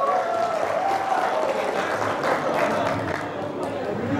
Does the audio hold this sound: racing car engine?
no